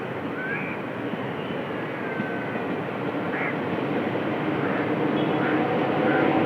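Steady rumbling of a train rolling through a railway station in Japan, with a constant low roar and faint squeals, and voices murmuring in the background.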